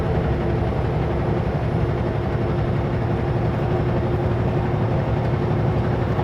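A Union Pacific train rumbles past in Portland, Oregon, a steady heavy low-pitched roar with rhythmic clatter that stays loud and close throughout, with no voices.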